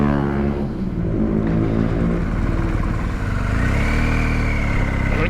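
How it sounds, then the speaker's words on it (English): A 2021 BMW R1250GS TE Rallye boxer-twin engine runs close by, a steady mid-pitched hum with audible harmonics that dips and rises slightly as revs shift, with no talk over it. "Makes a nice sound actually, the engine on this bike."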